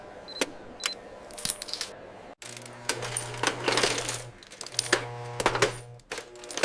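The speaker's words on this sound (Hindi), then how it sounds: "सिक्के वेंडिंग मशीन में डाले जाते हैं और स्वचालित प्रणाली उन्हें पहचानती है।" Coins clatter and drop into a vending machine, a rapid series of sharp metallic clinks and rattles with a steady mechanical hum running beneath through the middle of the sequence.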